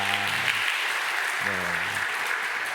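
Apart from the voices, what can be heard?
congregation applauding in church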